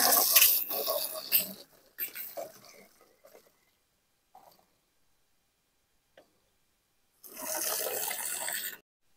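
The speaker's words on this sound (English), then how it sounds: "Now I'm going to go over it with a little water." Water sprays onto the exterior of a converted travel trailer. Irregular splashing bursts at the start fade into near silence, then a steady hissing spray runs for about a second and a half before it stops.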